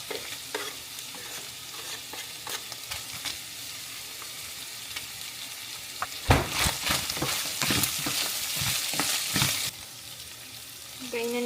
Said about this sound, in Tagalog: Mag-gisa na tayo ng sibuyas and bawang.